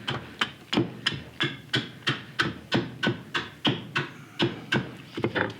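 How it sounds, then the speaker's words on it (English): An axe makes gentle carving cuts into green wood while a cup is shaped, landing as a steady series of about fifteen crisp, close knocks at an even rhythm, with no talk. "choke up on it like I am, and you're using it for real kind of gentle little cuts there."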